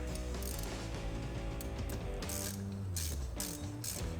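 Seal being adjusted on an ARES 4-liter manual brake fluid pressure bleeder, a close, steady plastic ratcheting and threading click as the locking parts are turned snug.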